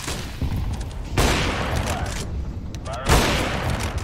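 Rapid gunfire and booming grenade blasts in the Counter-Strike video game, loud and dense, with two sharp explosive surges breaking through the continuous shooting.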